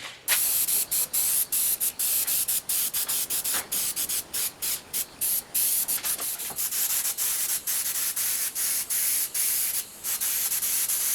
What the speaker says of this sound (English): So I'm going to try and tone it down with some blue paint in my airbrush.